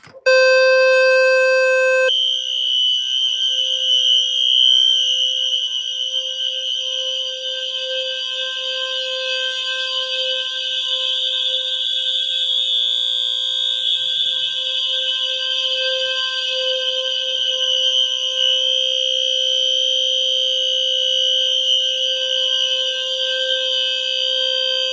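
A loud fire alarm in a building blares continuously during a test with a steady, piercing electronic tone that starts abruptly and never lets up, close and harsh.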